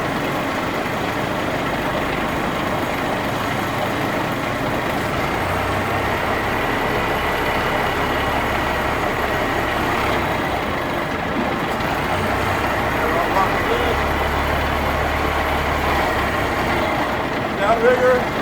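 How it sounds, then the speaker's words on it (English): A 1980 International crane truck's engine runs steadily at a slow pace while the crane is worked, a continuous broadband drone with low rumble, and speech sounds in the background throughout. "I like to go slow when I'm using the crane."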